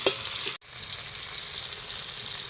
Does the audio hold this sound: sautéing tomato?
yes